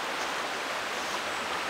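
Quaker Run Creek rushes under a bridge in Allegany State Park, a steady broadband hiss of flowing water that stays constant and fairly soft, with no voices.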